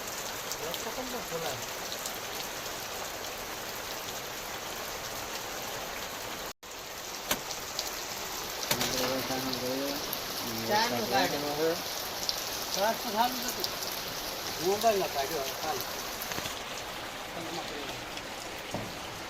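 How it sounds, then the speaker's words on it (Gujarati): Heavy, steady rain keeps falling on a surface for a long stretch, a dense continuous hiss with a brief cut partway through. A voice talks over the downpour in the later part. "ખૂબ વરસાદ વરસેલો છે કાલે 2 કલાક વરસાદ આજે પણ સવારથી ચાલુ છે"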